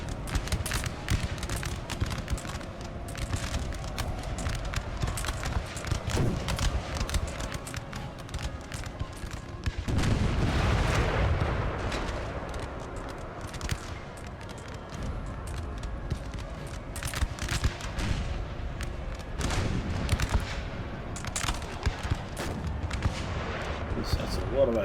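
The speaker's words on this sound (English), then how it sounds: "That's a lot of artillery rounds." Napoleonic field artillery fires in a Napoleon Total War battle, with repeated cannon booms and cracks rolling over steady battle din and faint voices, at times near and loud.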